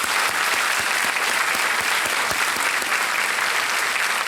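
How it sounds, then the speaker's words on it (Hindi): Steady, dense applause from a studio audience on the Indian quiz show Kaun Banega Crorepati, sustained and loud for the whole stretch without letting up. "तालियों के साथ इनका अभिनंदन।"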